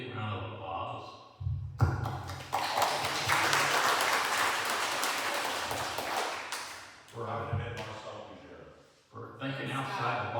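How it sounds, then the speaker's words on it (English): Applause breaks out at a city commission meeting, a sustained burst of clapping lasting several seconds between stretches of someone speaking nearby. "So I've got to hand out a big round of applause."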